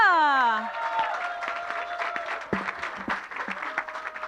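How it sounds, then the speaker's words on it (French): Congregation applause at a church Christmas gathering, scattered clapping and cheering that follows a fading musical chord, with sharper individual claps and voices mixed in toward the end. "On peut donner aussi une bonne main d'applaudissement à Manon qui a tout orchestré ça"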